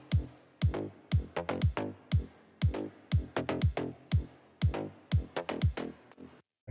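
A soloed kick drum and mid bass line with sidechain compression, the punchy kicks thumping in a steady pattern while the bass ducks under each hit and swells back between them.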